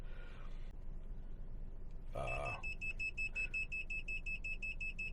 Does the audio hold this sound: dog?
no